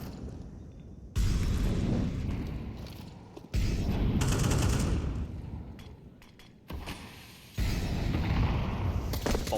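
Utility grenades and gunfire blast across B site in a Counter-Strike match on Ancient, loud bursts of explosions and rapid shots arriving in three distinct waves with short lulls between.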